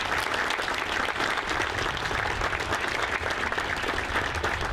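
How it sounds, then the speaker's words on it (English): Dense, sustained applause from a crowd at a Marine Corps change of command ceremony, loud and even throughout with no break. "So please, round of applause for Tom"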